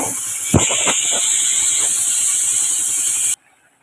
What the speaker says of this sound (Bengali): এটা ঝুলটা ফুটছে